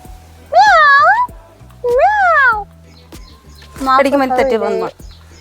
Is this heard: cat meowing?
yes